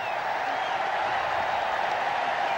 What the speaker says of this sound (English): the crowd have forgotten about that. They're running on.